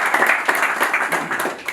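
A church congregation claps along during a service, a dense, steady patter of many hands close by with no pause through the stretch.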